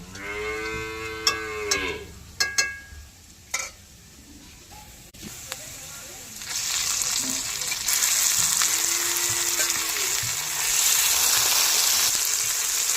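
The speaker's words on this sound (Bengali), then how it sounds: "এবার যে মশলা মাখিয়ে চিকেনের টুকরো রেখেছিলাম পেঁয়াজ তেলে দিয়ে দেব" A cow lows a few times nearby, then spice-coated chicken pieces drop into onion-fried oil and a loud, steady sizzle takes over for the rest of the moment.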